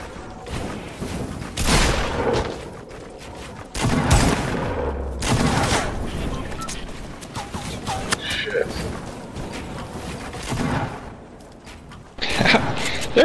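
Gunfire in the Fortnite battle royale video game comes in several loud, sharp bursts of shots, some clustered into quick volleys, with people talking over and between them.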